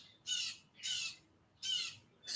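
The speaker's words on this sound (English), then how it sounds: "that's one of our birds in a tree squawking." A bird up in a tree squawks in four harsh, evenly spaced bursts, moderately near, with no talking.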